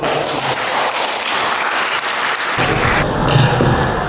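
An audience at a sermon-writing training session applauds steadily, with dense clapping that holds for the whole stretch and is loud and close, with no voices over it.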